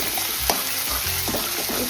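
Chowmein with thick-cut potatoes frying in a pan, a steady close sizzle broken by a few stirring scrapes, with no voices.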